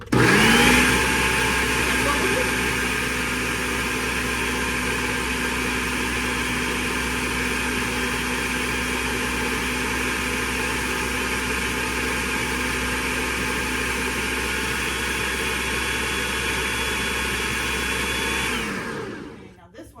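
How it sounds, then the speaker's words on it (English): Food blender running steadily and loudly on volcanic hummus for nearly twenty seconds, a constant whirring motor drone that cuts off at the end. "Just says to blend it together."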